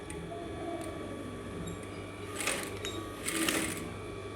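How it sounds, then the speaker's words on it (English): Sewing machine stitching fabric for an aso-ebi cap, a faint, steady mechanical whir with soft ticking and two brief louder bursts, close by in a quiet room. "Now you are sewing from the wrong side to wrong side, right side to right side"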